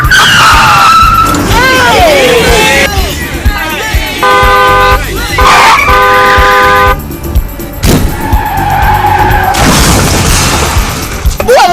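A recklessly driven car skids and honks, tyres screeching and the horn sounding in several sustained blasts amid loud traffic noise, with people talking excitedly over it.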